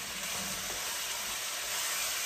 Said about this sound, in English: That's why I'm frying it up right now